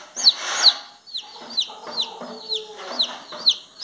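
A hen clucks in short, repeated bursts close by on a small farm plot, with high chirping calls running through between the clucks.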